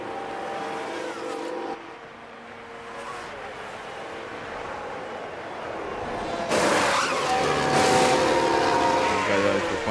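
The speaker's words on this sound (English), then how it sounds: "Into the pits then for Kimi" An F1 car in the F1 Manager video game enters the pits at the Canada race, a loud engine drone that swells into a brighter, rising roar near the end.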